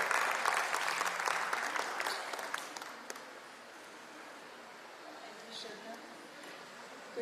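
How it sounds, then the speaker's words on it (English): Audience applause at an environmental sustainability conclave, dense clapping that is loud at first, then thins out after about three seconds to scattered claps under a low room hum. "A round of applause for Amala Akkineni Daru."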